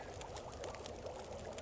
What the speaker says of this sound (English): Let's drink a little more water.